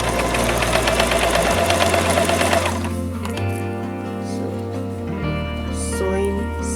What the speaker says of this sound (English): So sewing still on that line